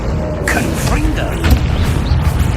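Confringo spell blasts in the Hogwarts Legacy video game, loud booming bursts layered with mechanical clatter in dense, continuous game audio, with a voice shouting over the action.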